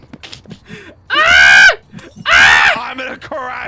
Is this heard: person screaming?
yes